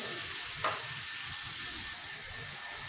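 Stuffed okra sautés in a pan with a steady, even sizzle, close and moderately quiet, and one brief spoon scrape near the start.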